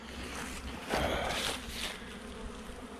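Honeybees buzz steadily around a long Langstroth hive during a robbing frenzy, a dense close swarm drone that swells briefly louder about a third of the way in and continues without speech.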